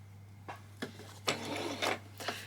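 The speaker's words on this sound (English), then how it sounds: "so I'm just going to zigzag across that piece of skirt" A sewing machine runs in short bursts as it zigzag stitches across a piece of skirt fabric, close and moderately loud, with several brief whirring runs separated by pauses.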